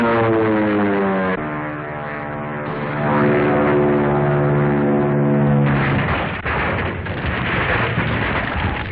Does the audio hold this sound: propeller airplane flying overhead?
yes